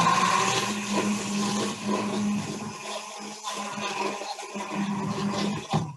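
An immersion blender whirs inside a pot of soup, a continuous close motor drone with a churning, sloshing texture as the soup is pureed, and no talking.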